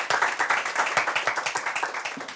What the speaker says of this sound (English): Come on, a round of applause.